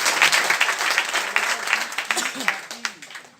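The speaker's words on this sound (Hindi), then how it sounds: "एक बार उस व्यक्ति के लिए जोरदार तालियां बजा दीजिए" An audience bursts into loud applause, dense clapping that rolls on for a few seconds, with a voice faintly audible beneath.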